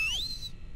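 Whistle in the video game Backrooms Escape Together, a single short rising whistle tone that sweeps upward and then holds briefly before cutting off, with faint background noise underneath.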